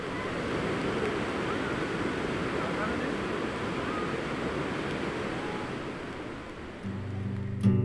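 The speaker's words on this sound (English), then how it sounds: "Just look at the magnificence of that waterfall." A waterfall in the mountains of Sikkim, a steady broad rushing roar heard from some distance, with a brief rustle near the end.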